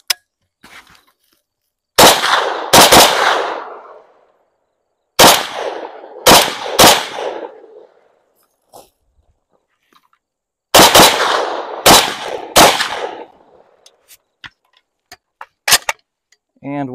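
M70ab2 rifle fitted with a JMAC muzzle brake fires loud, sharp shots in several groups of two or three, each with a ringing tail, separated by quiet gaps, with outdoor clicks and a brief voice at the end.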